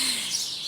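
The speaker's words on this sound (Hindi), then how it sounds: "यहाँ देखें कैसे इस टाइम पे कि चिड़ियों का शोर और चूँ चूँ चूँ चूँ चूँ चूँ" Birds chirp in a tree at dusk, their high, bright calls forming a dense, continuous chorus with no talking.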